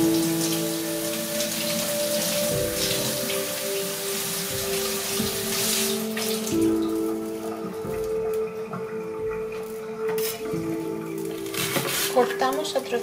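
A leek, outer leaf removed and layers opened, is rinsed under running tap water in a kitchen sink, a steady close water hiss with some splashing and brief clinks, while a person talks.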